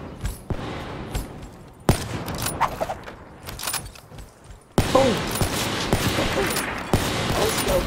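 Gunshots ring out in a 1v1 video game match: four sharp, loud shots spaced a second or two apart over a busy background of game noise.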